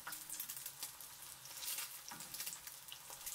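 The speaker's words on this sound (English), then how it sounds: "4 eggs over high heat in 1 cm of hot vegetable oil" Four eggs frying over high heat in a centimetre of hot vegetable oil, a soft steady crackle and spitting sizzle with faint bursts, quiet and continuous with no voices.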